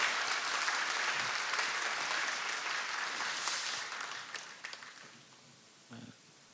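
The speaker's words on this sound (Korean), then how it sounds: "박수로 한번 맞겠습니다." A church congregation claps warmly in welcome during a Sunday service, a thick, loud roar of many hands that holds steady and then tapers off, with a few last scattered claps.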